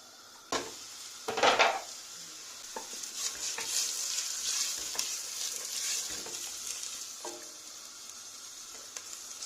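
Chopped onions hit hot oil in a pot on the stove with a brief clatter, then a steady soft sizzle continues under occasional scraping stirs of a utensil, close by and without voices.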